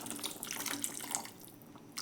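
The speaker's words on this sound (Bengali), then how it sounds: "জল দিয়ে দিলাম।" Water is poured into a pot of cooking ghugni, a short close splashing pour with faint bubbling and no voices.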